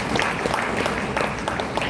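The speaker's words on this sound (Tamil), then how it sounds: "இந்த இடத்துல நீ கைத்தட்டியும்." An audience clapping in a hall during a Tamil religious discourse: steady, fairly loud applause of many hands lasting about two seconds, with no voice on top.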